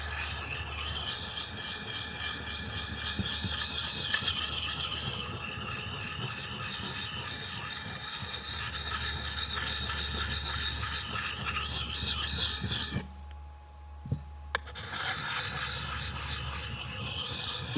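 A Lansky Puck sharpening stone rasps steadily against an axe edge in repeated gritty strokes, with a short pause near the end before the scraping resumes.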